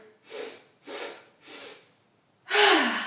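Three deep breaths are drawn in during a dynamic yoga session, followed by a longer, stronger exhale, close and clear with short silences between them.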